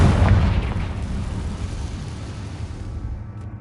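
A Confringo blasting spell explodes in a video game, a loud broadband boom at the start that rumbles and slowly fades over a few seconds.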